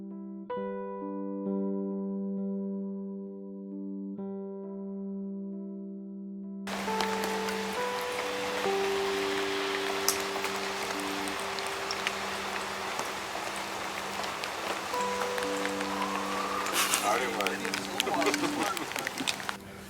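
Steady rain falling outdoors on a hot day, a dense, even hiss that comes in after a few seconds of sustained tonal notes and continues to the end.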